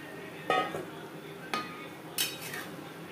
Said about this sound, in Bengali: মাছ বেশ ভালো করে মিক্স করে দেবো।